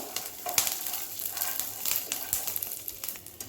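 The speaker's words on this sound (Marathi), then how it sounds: "तेल, शेंगदाणे, हिरवी मिरची व्यवस्थित अशी भाजून घ्यायची. तेलामध्ये रंग बदलेपर्यंत." Peanuts and green chilies frying in oil in a pan, a close, soft crackling sizzle with irregular pops and light stirring scrapes, no voices.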